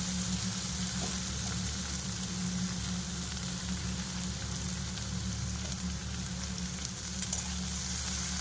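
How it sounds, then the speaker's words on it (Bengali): Eggplant and onion fry in leftover fish oil in a pan on the stove, with no extra oil added, giving a steady, soft crackling sizzle that continues evenly throughout, faint and close, with no voices. "বেগুনটা আমি পেঁয়াজের সঙ্গে ভেজে নেব।"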